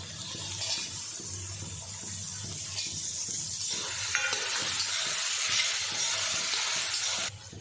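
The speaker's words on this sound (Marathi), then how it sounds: "त्यात टाकते वाटाणे" Peas hit a hot frying pan while pav bhaji is being made, setting off a steady close sizzle and hiss that swells and holds, with faint stirring underneath.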